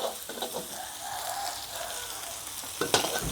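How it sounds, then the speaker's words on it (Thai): Galangal, lemongrass, garlic, chili and coriander root stir-fry in hot lard with a steady, dense sizzle close to the pan. A louder clatter of the utensil comes near the end. "แถมน้ำมันหมู ผัด ข่า ตะไคร้ กระเทียม พริก รากผักชีค่ะ"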